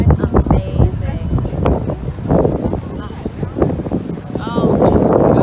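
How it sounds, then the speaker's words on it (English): Strong gusts of wind buffet the microphone with low rumbling bursts while people talk outdoors on a beach. "Super windy"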